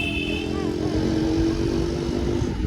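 A motorcycle engine drones steadily while riding, with constant road and wind rumble and no break in the sound.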